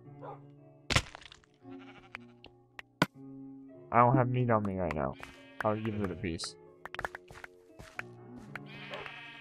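Sheep in the video game Minecraft bleating in a short run of wavering calls near the middle, set among sharp hit and crack effects, with someone talking over much of the scene.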